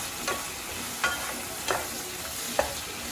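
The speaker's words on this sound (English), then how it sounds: "Get back to the shrimp. See, still cooking." Shrimp cooking in a pan with a steady low sizzle, broken by four brief scraping stirs spaced about a second apart, with no talking.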